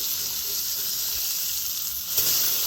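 Food sizzles on the griddle of a Masterbuilt 1050 Gravity Series charcoal grill just after being flipped, a loud, steady, close hiss that swells slightly near the end.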